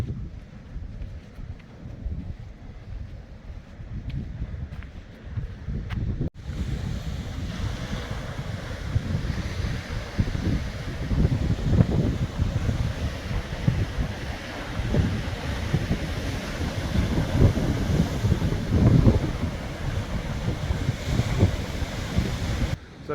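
Strong wind and choppy sea waves roll in on the Cumbria coast, a continuous rumbling surf with heavy gusts buffeting the microphone, loud and unbroken throughout.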